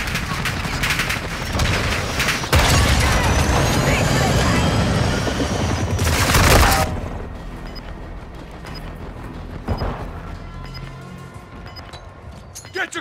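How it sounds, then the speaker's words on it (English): Small arms gunfire in a military shooter video game, dense bursts of rapid shots and blasts for the first several seconds, easing into sparser distant pops with game radio chatter around them. "Repeat, small arms fire."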